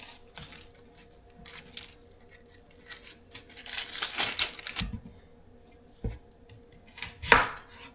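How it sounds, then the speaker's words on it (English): A knife chops onions and garlic finely on a cutting board while meatballs are being prepped: irregular, close wooden taps with a few sharper, louder strikes between quieter pauses. "I'm not like a master chef cutting up vegetables into super fine pieces"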